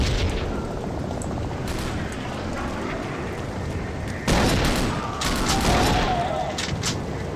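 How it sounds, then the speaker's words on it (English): Shotgun blasts in the World War Zero (Iron Storm) game, heavy booming shots layered over dense battlefield noise, with a loud burst partway through. "Damn, this shotgun's actually pretty okay."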